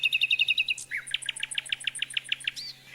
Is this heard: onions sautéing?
no